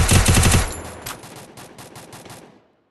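Rapid machine gun fire in the Free Fire battle royale game: a loud dense burst, then a run of evenly spaced shots that trails off and fades out.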